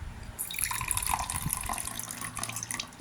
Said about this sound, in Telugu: కొంచెం నీళ్ళు మాత్రం పోస్తున్నాను